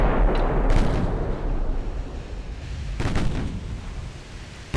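Warship secondary guns firing in the Ultimate Admiral Dreadnoughts naval game, heard as a few sharp booming reports with rumbling tails, one early pair and another burst a couple of seconds later over steady low battle noise.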